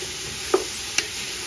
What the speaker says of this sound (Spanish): si ven la cebolla. Ya empieza a dorar